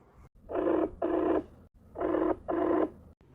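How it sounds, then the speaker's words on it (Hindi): A telephone ringing indoors: two double rings, each made of two short bursts with brief gaps, loud and clear, with no talk. "दीदी फ़ोन क्यों नहीं उठा रही हैं?"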